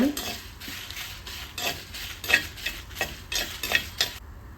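Garlic cloves tossed with dried red chillies and coriander seeds in a hot pan for a Tamil podi, giving repeated stirring scrapes and light sizzling, close and steady with no talk.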